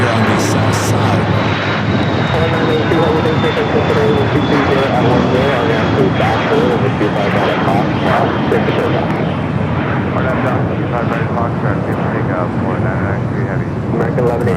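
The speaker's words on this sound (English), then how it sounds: "Next takeoff here on the south side." A 777 freighter takes off from the south side runway at LAX, its engines a loud, steady roar that fills the whole stretch, with a faint high whine running above.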